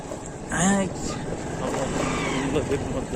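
Motorbike engine riding along a sandy bank of the Jamuna river, a steady close drone with wind rush, and a person talking over it.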